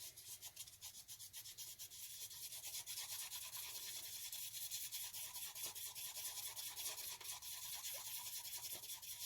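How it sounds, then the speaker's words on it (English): A stirrer scrapes round and round through a jesmonite mixture in a container while coasters are being made. The rasping, rubbing sound is steady and continuous, quiet and close, with no talk. "Give it a really good stir."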